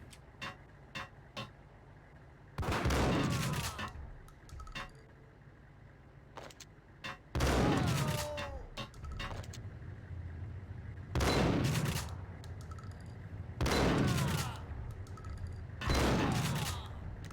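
Enemy shotgun blasts in the game Max Payne, five loud booming shots spaced a few seconds apart, each with a sharp attack and ringing tail, with faint clicks and ambience between them.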